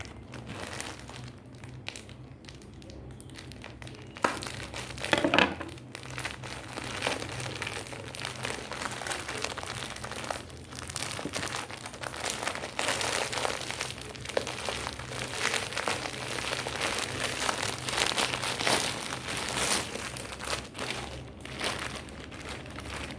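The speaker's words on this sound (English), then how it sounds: "Now, I'll tear it open." Plastic packaging around a pair of khaki cargo pants is torn and crinkled open, a steady close rustle and crackle running throughout with a few sharper rips, no talking.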